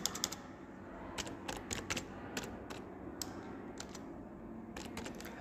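Keys tapped on a computer keyboard in quiet, scattered bursts of sharp clicks, some in quick runs and others spaced apart, faint and close with no voices.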